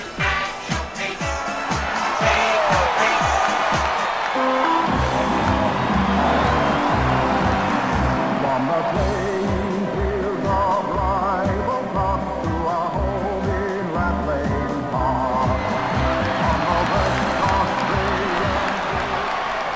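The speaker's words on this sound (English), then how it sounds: "They're looking sharp and the crowd are appreciating it." A large stadium crowd in the football game AFL Evolution, Perth versus the Swans, roars and applauds steadily for about twenty seconds, a broad continuous wash of cheering under a commentator's voice.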